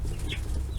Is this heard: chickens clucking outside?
yes